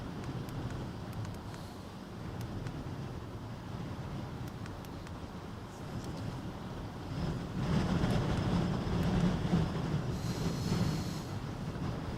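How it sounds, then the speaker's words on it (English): Strong wind buffets the microphone on the shore of the Westerschelde in the Netherlands, a constant low rumble that swells louder partway through, with a ship's faint drone in the distance. "I wish the wind would stop for a minute so the camera is not as shaky."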